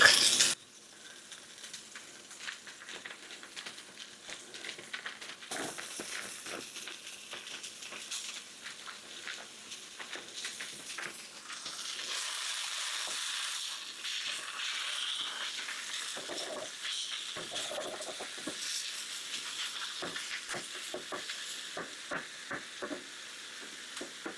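Kroger brand pork breakfast sausage sizzling in a pan, a continuous close hiss and crackle with scattered pops and spatters that swells in the middle, no voices over it.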